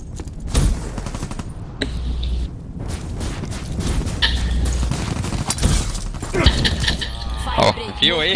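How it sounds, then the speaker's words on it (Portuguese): Call of Duty: Black Ops 3 gunfire from a slow two-shot weapon, sharp shots popping at intervals amid loud game noise, with a voice talking over it. "Essa arma que eu tô usando é lenta pra porra, mas também é dois tiros."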